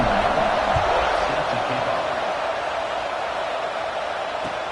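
A football stadium crowd in Nebraska waits before kickoff, producing a dense, steady roar of many voices that stays broad and unbroken, fading slightly toward the end.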